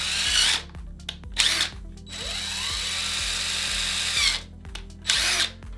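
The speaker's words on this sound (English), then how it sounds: "take your drill, and we're gonna throw 2 holes in it," A power drill bores holes into a plastic wheel for a spearfishing flasher, whining in several close, loud bursts with a sustained high-pitched run in the middle and brief pauses between.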